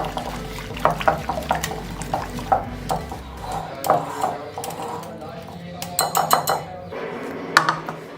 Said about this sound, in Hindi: इस बीटर के साथ अच्छे तरीके से बीट हो जाता है दही